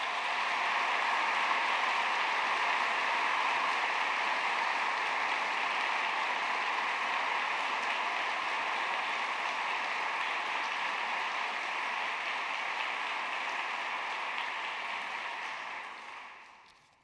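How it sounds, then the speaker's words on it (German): Sustained audience applause at an academic ceremony, a steady even wash of clapping from a large crowd heard from some distance, holding for about fifteen seconds before fading out. "das ist auch ein Applaus wert"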